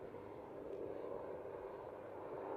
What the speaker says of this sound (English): Got a lot of helicopters going past us at the moment.